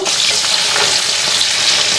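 Fish frying in a pan gives off a loud, steady sizzle with a constant hiss and crackle throughout, and no voices.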